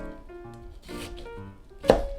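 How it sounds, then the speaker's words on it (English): A kitchen knife slices into an onion on a cutting board, producing a few soft cuts under faint background music, then one sharp, distinct chop against the board near the end. "First, please make slits against the grain like this"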